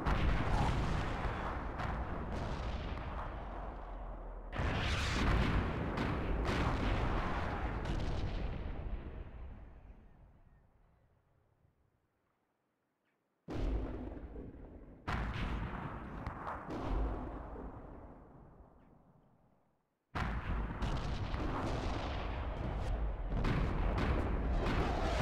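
Artillery rounds landing in World of Tanks, loud booming impacts with long rumbling tails that fade, separated by short stretches of silence, followed by further heavy bursts.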